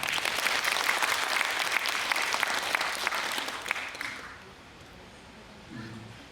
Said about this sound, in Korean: 소개할 때 큰 박수로 환영해 주시기 바랍니다